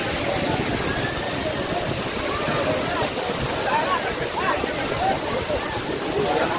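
Anayadikuthu waterfall in Idukki, with strong flowing water making a steady, loud broadband rush that stays close and constant throughout.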